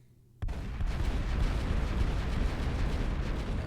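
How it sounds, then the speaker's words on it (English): Kinetic guns firing in the Final Theory video game, a sudden onset into a sustained, dense roar of rapid overlapping gunfire that stays loud and continuous after a brief quiet start. "now we follow it up with kinetic guns"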